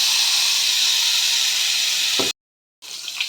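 Mustard and poppy seed paste hits hot oil with a loud, steady hiss and sizzle that runs close and continuous, cuts out abruptly for a moment, then resumes more faintly.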